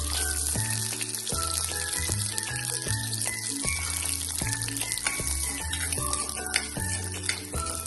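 Garlic sautéing in a pan for mango thokku gives a steady close sizzle and crackle, running continuously under a prominent melodic music track with no talking.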